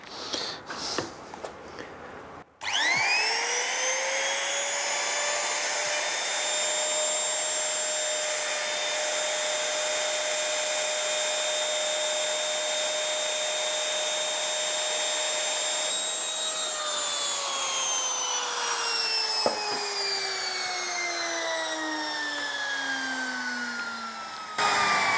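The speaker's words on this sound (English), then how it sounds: "As you can see, the electric router is much quicker." An electric router cuts a hexagonal veneered wooden box, spinning up to a loud, steady high whine that holds for about fifteen seconds, then slowly winds down in pitch, close and alone.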